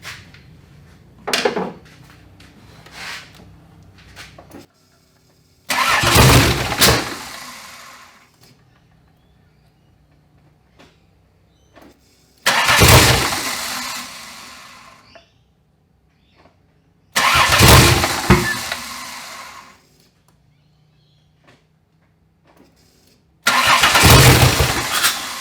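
A turbocharged Ecotec engine swapped into a BMW E46, running on its first start with a badly off tune: four loud, rough bursts of engine noise and revving, separated by quiet pauses, close to the microphone.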